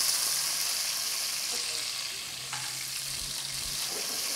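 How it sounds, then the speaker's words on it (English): Chopped onion sautéing in hot ghee or oil for a Mughlai chicken, a loud, even hiss of frying that runs throughout with a faint scrape or two of stirring and no voices. "And we're going to saute."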